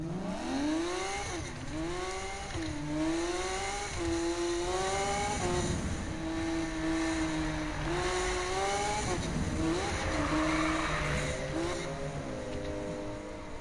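Racing car engines from Need for Speed 2015 rev and shift repeatedly, pitch climbing and dropping in waves over a continuous game soundscape with tire noise, steady and fairly loud.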